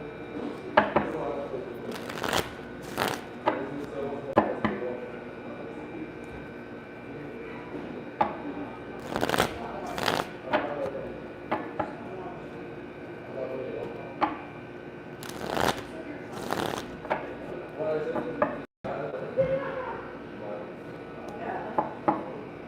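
Tarot cards are shuffled repeatedly in sharp bursts of riffling and snapping, close by, with a voice talking intermittently between the shuffles.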